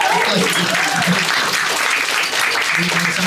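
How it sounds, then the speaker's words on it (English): A crowd applauds steadily throughout, dense clapping with some voices mixed in, fairly loud and continuous. "give him a round of applause"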